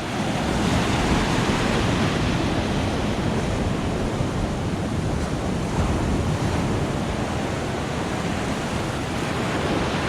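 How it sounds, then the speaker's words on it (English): Atlantic Ocean surf rolling onto a long, quiet Florida beach at Little Talbot Island, a loud steady wash of breaking waves mixed with wind buffeting the microphone, with no voices. "It's the Atlantic Ocean, so always more surf than the Gulf."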